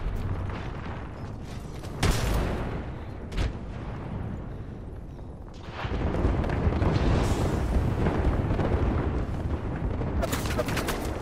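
Sharp blasts and gunfire erupt in an Apex Legends match, with two sudden bangs early on and then a heavy, sustained roar of explosive noise and further bursts.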